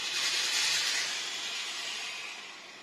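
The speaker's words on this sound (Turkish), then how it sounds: "Bayağı bir buhar veriyor." A Tefal Express Power SV8062 steam generator iron releases a steady, broad hiss of steam that slowly tapers off over a few seconds.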